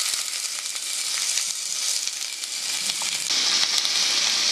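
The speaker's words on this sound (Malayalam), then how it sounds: "അതിലേക്ക് വെളിച്ചെണ്ണ ഒഴിക്കാം. ഉലുവ ചേർക്കുക. ഉലുവ പൊട്ടണം." Fenugreek seeds splutter in hot coconut oil for a chicken curry, a steady bright sizzle with small crackles and pops throughout, growing a little louder toward the end, with no talking.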